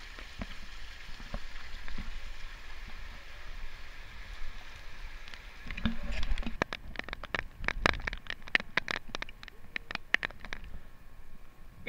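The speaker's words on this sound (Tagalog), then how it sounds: "Kasi lumaki na yung ulan." Continuous rushing hiss of heavy rain during Typhoon Odette in Surigao, with a clatter of louder irregular drops and patters on a surface building up midway through.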